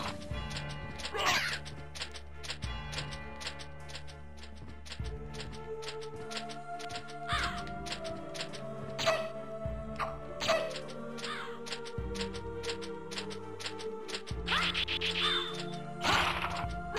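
Crows caw in the video game Castlevania: Symphony of the Night, their calls mixed into dense, continuous game music with steady beats and layered tones.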